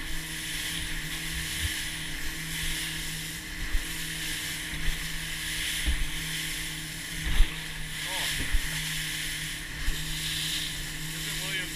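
A 2019 Alumacraft 165 SC aluminum boat runs on open water under a Yamaha F70 four-stroke outboard, a steady engine drone with wind buffeting the microphone, water slaps and hull thumps, and voices talking over it.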